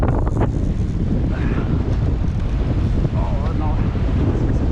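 Strong gusting wind at Bolivar Roads, Galveston, buffeting the microphone as a loud constant roar, with faint voices and water noise beneath.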